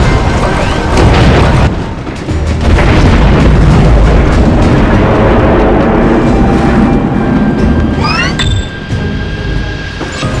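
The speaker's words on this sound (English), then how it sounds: "Throw the bomb into the soap belcher to destroy the whole refinery." A thrown bomb destroys the refinery on Oilspill Islands in the video game Skylanders: Spyro's Adventure, making a loud, sustained rumbling explosion with crashing debris and clinks, followed by rising whistling effects near the end.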